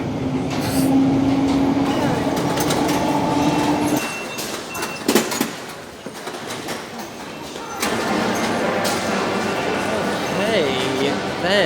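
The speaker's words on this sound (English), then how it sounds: "if you enjoy bumpy, jolty rides, okay, and that are very loud" A London Underground train runs loudly and jolts along the tracks, with a heavy rumble and rattling that dips briefly midway before surging again; a voice talks over the noise.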